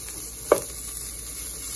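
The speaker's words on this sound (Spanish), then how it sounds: "vamos a poner el chorizo para irlo cocinando y que vaya soltando su grasita" Chorizo frying in its own fat in a pan, a close steady sizzle with one sharp scrape of a utensil early on, no voices.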